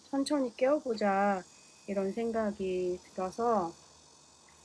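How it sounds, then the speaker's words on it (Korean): Cicadas drone steadily outdoors in summer, a faint continuous high buzz running throughout beneath a person talking in Korean in a quiet room. "막 매미 소리 들리고 밖에 소음 다 들리고"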